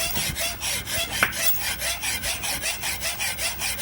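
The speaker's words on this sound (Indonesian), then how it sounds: "usahakan gergajinya yang masih tajam ya, agar cepat dalam pemotongan" Hacksaw cutting through a Honda automatic scooter's swing arm bushing, a steady back-and-forth rasping of metal sawing in even strokes, close and alone.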